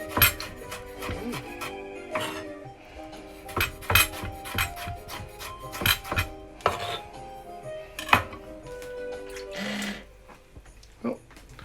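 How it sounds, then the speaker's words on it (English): Ingredients for a tomato risotto being roughly chopped, with irregular sharp knocks and clinks of knife and board, some clusters of quick strokes and occasional dish clatter, close by with talk between the cuts. "this is getting chopped up roughly, and that's going to be getting diced"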